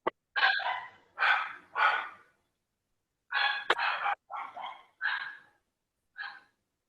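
Dogs barking in a string of loud, close barks, a few in quick succession, then a pause and several more, with silence between them.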